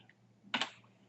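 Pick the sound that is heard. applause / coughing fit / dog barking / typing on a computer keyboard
typing on a computer keyboard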